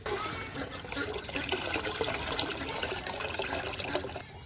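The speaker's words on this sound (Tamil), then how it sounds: "இப்போ இதில் தண்ணி ஊற்றியாச்சு." Water pours steadily into a bucket holding urine being mixed into natural compost, a continuous close splashing gush that fades at the very end.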